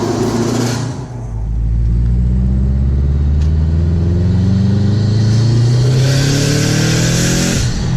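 A 2006 Subaru WRX with a big turbo making 361 wheel horsepower accelerates hard on a back road, its loud engine note rising steadily through the revs. A brief dip and a shift come early, and a hissy rush follows near the end.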